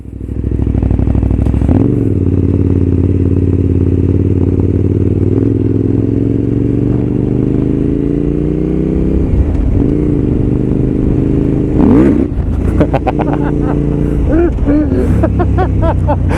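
A KTM 990 SMT supermotard motorcycle roars loud and close, engine droning and then revving hard in bursts as a wheelie is attempted, with rising and falling pitch and some clatter, while riders talk over it.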